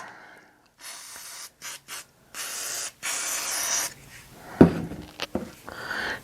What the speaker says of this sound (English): Need a little bit of degreaser there.